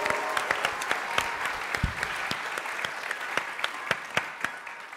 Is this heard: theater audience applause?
yes